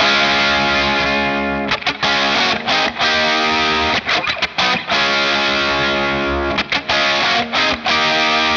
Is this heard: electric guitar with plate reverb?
yes